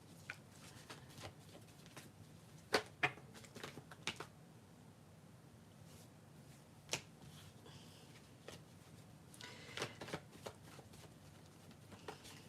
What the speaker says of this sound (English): I'm going to shuffle the cards for a minute